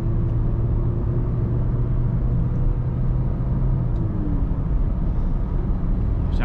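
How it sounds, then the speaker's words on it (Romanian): A car with a DSG gearbox climbs a mountain pass road, a continuous loud engine rumble and road noise with a steady low drone, rising slightly in pitch as it revs. "se duce până în 3500 de ture"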